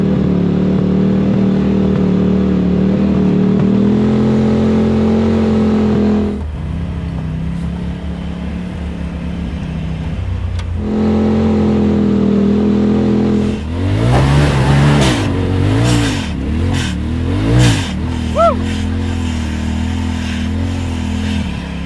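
Polaris RZR side-by-side engine on a snowy winter trail, holding a steady mid-pitched drone, then revving hard in several rising and falling bursts, loud and close with no talking.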